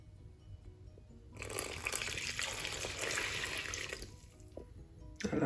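Lukewarm water poured straight into Congolese beignet (mikate, puff puff) dough, a steady gushing splash lasting a few seconds against a quiet room, stopping abruptly.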